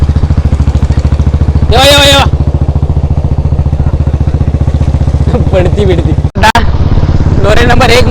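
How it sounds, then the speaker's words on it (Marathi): A motorcycle engine drones steadily and loud close by, with brief revs and a short cut-out near the end, while people talk over it. "रेस लावा रेस लावा"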